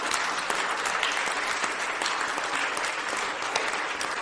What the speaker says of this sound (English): will you give a big round of applause for the staff that helped produce the last 100 shows?